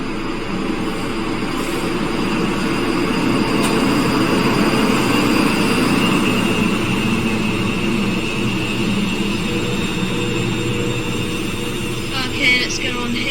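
A ScotRail class 334 electric train sits at Glasgow Queen Street station, giving off a loud, steady mechanical hum and whine amid echoing platform ambience, with a brief clatter near the end.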